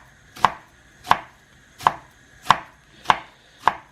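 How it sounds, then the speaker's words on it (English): A knife dices a banana shallot on a chopping board with six evenly spaced, sharp thuds, about one every two-thirds of a second, close and distinct in a quiet kitchen. "So when you cut down and then you cut across, it's naturally diced already."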